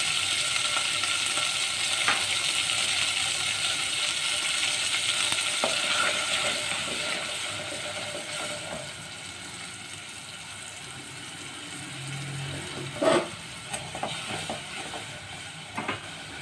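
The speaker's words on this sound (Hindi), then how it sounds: "ये देखिए अच्छे से भूनना है आलूओं को मसाले के अंदर" Potatoes fry in turmeric, red chilli and salt with a little water, giving a continuous loud sizzle and hiss that fades slightly partway through, with occasional stirring scrapes and clinks.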